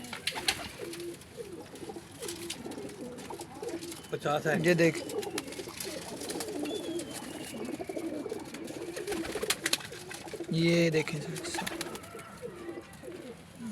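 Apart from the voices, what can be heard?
pigeons cooing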